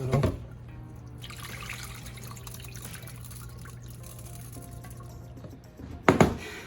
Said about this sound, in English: we went ahead and washed the rice